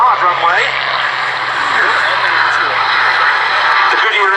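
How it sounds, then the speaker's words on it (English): Grumman FM2 Wildcat and other warbirds taking off at a VE Day air show at Duxford, a loud sustained propeller-engine roar rising and shifting in pitch as the aircraft climb away. "Into the air, here goes the first, the Grumman FM2 Wildcat"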